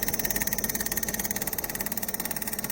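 A Midea U-shaped inverter window air conditioner rated 12,000 BTU vibrates hard, giving a steady, rapidly pulsing mechanical hum and rattle that runs continuously at moderate loudness with no talking.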